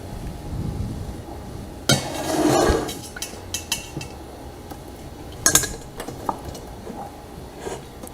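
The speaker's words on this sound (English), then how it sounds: "now I'm gonna stack my egg molds" Silicone egg molds being stacked for an Instant Pot, giving a few soft knocks and clinks of cookware, one louder cluster near the start and scattered light taps after, close by with no talking.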